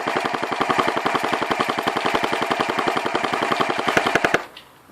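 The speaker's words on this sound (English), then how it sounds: "I'm just going to empty the clip now" Aliens M41A Pulse Rifle replica firing in one long, rapid, steady burst of sharp mechanical shots that empties the clip, loud and close, then stops abruptly.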